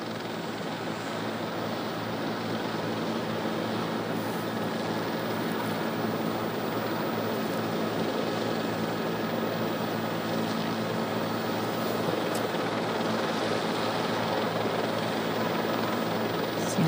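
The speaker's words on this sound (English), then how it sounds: "And here it comes in now, this JetBlue flight 292 with that front nose gear pointed sideways." JetBlue flight 292 comes in to land with its front nose gear pointed sideways, heard as a continuous, moderately loud, distant aircraft engine roar with a broad rushing hiss throughout.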